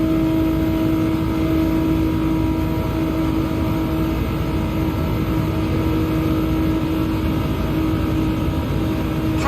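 A racing game car engine drones steadily and loudly at near-constant revs for the whole stretch, a continuous whine on a Porsche Cup time trial on the Route X circuit, with no talk over it.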